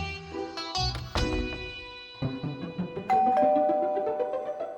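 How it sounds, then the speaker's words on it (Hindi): Electronic doorbell chimes ring out, several melodic tones in succession, close and clear, with no talking. "बाप रे, कितनी घंटी बजती है इस घर में"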